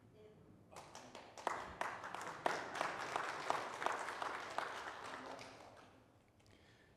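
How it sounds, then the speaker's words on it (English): A church congregation breaks into clapping during a sermon, a burst of sharp individual claps that thickens into steady applause and then fades out, with a brief spoken word near the start. "You should clap for that."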